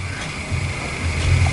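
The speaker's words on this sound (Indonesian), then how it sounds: "Ini suara getarnya kecil sekali ya" A Samsung J4+ phone with a dead LCD backlight, plugged into a charger, vibrates faintly in two short low buzzing bursts over a quiet background hum.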